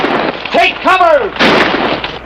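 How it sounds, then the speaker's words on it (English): Gunshots ring out in a western TV shootout, several loud, booming cracks in quick succession, each trailing off with a ringing echo. "Who's shooting at him?"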